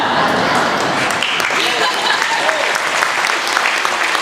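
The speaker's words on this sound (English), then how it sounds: "start the applause now" Sustained applause from a dinner audience fills the room, dense and steady from start to finish, with a few voices mixed in beneath the clapping.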